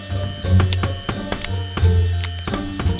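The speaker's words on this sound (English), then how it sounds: "That's the sound of a hungry raptor." Low, rumbling growls of a hungry raptor pulse in repeated bursts, punctuated by sharp clicks and thuds, with a dense Roblox Rainbow Friends game soundscape throughout.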